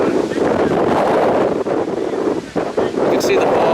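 Steady, loud wind buffeting a microphone at an outdoor high school soccer match, a continuous rumbling roar filling the whole stretch with slight dips, a voice faintly present underneath.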